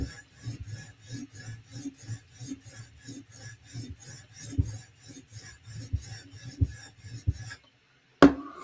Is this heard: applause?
no